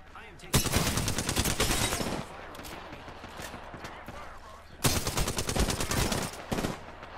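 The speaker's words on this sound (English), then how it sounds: "I am taking fire" Bursts of automatic gunfire in the Apex Legends battle royale shooter, two long rapid volleys close and loud with a quieter stretch of scattered shots between them.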